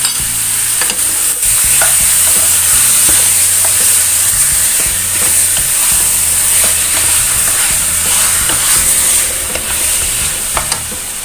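Tauco soybean marinade frying in a pan while it is stirred, with a loud, steady sizzle broken by repeated scraping strokes from the utensil, close up and without talk.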